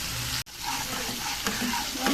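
Spice paste with salt and turmeric frying and being stirred in a pan, a steady close crackling sizzle broken by one brief silent gap near the start.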